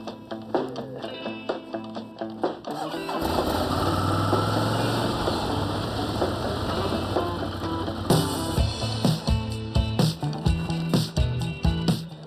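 A motorcycle engine idles close by with a steady, rumbling drone that holds for several seconds, then breaks into uneven pulsing throttle blips toward the end; no one speaks.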